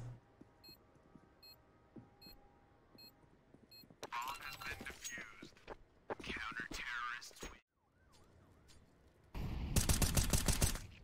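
Gunfire in Counter-Strike: Global Offensive comes as scattered shots and short automatic bursts that build to a loud, rapid volley at the end, mixed with game beeps and a voice talking.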